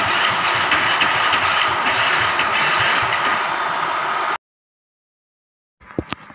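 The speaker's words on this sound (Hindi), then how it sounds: "अब मैं दिखाता हूँ आपको सेल्फ लगा।" A Hero Splendor Plus BS6 motorcycle with a blown fuse makes a loud, steady mechanical whirring for over four seconds, cuts to silence, then gives a couple of short sharp clicks.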